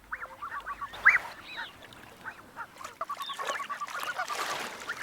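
Blue-winged geese honk repeatedly in scattered, overlapping calls, some near and loud, others fainter, with water and outdoor ambience between them, in Ethiopia's highlands.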